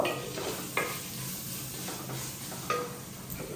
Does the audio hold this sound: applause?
no